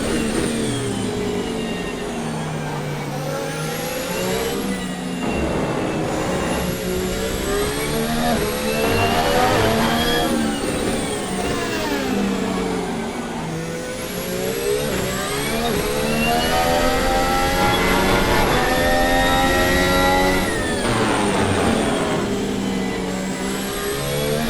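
Lando Norris's Formula 1 car howls through an onboard lap of the Brazilian Grand Prix in F1 2025, rising and falling in pitch as it climbs through the gears and brakes for corners, loud and continuous.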